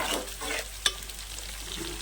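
Onions and a spice tempering fry slowly over a low flame for a cucumber curry, with a constant soft sizzle and one sharp stirring clink partway through.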